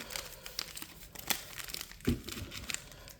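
Sealed foil trading card packs shuffled by hand up close, a continuous run of crisp crinkling and rustling with small sharp crackles, fairly quiet and without talk.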